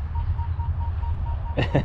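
A steady, pure Minelab Manticore metal detector tone over an old coin rings clearly over low background rumble, then a couple of short louder bursts cut in at the end.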